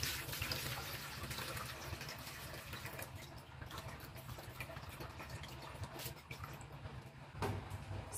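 Cloudy first rinse water from washing rice is poured out, a faint, steady splashing trickle running nearly throughout, then a brief louder splash near the end.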